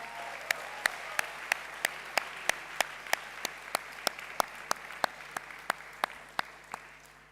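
A graduation audience applauds academic prize recipients, a soft steady wash of distant clapping punctuated by regular sharp single claps close by, about two or three per second.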